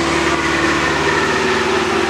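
A Case pulling tractor called Iron Eagle, in the pro field class at a tractor pull, idles with a steady, loud mechanical drone and a low rumbling pulse that holds unchanged throughout.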